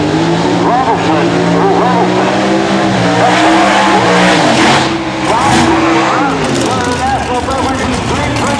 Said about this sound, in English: Race 63 split window Corvette take on the flying shoebox of Willie Robertson over on the Hogan side